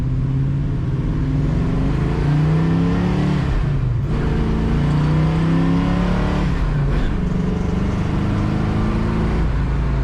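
A 1957 Chevrolet 210 engine pulls hard accelerating in second gear, revving up, easing briefly, then climbing again; loud and close with a throaty, steady roar.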